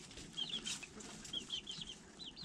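A mother hen in a coop clucking at her chicks, with bursts of soft calls repeating several times at moderate distance over a quiet background.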